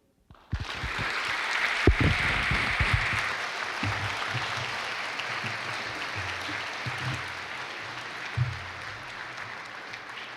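A school auditorium audience at a Women's History Month celebration bursts into applause after a spoken performance, a dense, steady wash of clapping that starts abruptly and continues throughout, with a few whoops and cheers near the start.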